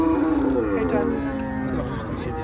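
A big-bodied Holstein Friesian dairy cow at a cattle sale gives a long, loud, nearby moo with a drawn-out, wavering tone.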